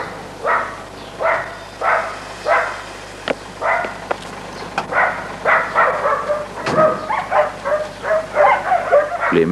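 A dog named Bolt barks in a steady series of short, close yelps and bow-wows, some whimpering, repeated rhythmically for several seconds.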